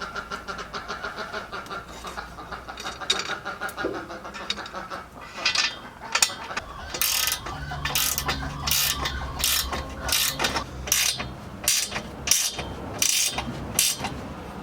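Ratchet clicking while exhaust headers are bolted up on a 1977 Sigma Lancer, quick bursts of pawl clicks in short runs with brief pauses, close and fairly loud with some metallic clatter between strokes.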